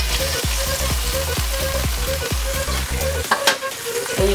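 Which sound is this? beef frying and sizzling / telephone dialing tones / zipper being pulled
beef frying and sizzling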